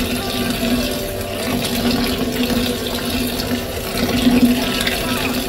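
Running water pours and splashes steadily over soaked beans in a bowl or sink, a continuous rushing sound with slight swells, with no voices over it.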